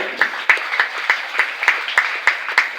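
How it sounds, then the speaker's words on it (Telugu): Steady, rhythmic clapping from a small group, the claps landing in unison about three times a second, loud and close. "ఒక్కసారి క్లాప్స్ కొట్టండి"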